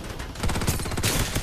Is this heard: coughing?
no